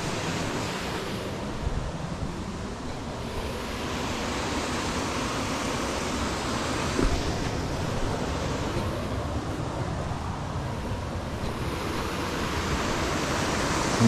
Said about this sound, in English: right here is the waterfall